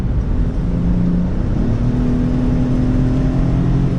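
The 3-cylinder engine of a 2022 Ford Bronco Sport Outer Banks revs up steadily, a droning hum that climbs in pitch as it accelerates, heard from inside the cabin.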